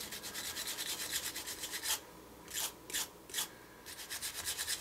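A nylon plastic brush scrubs a lead-fouled Rough Rider revolver cylinder in fast back-and-forth strokes, close and crisp, with a few short pauses between bursts.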